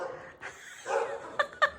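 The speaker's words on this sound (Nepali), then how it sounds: "ऊ कुकुर कराउनु सुरु भयो" A dog gives a few short yips and barks, moderately close, with faint voices and laughter nearby.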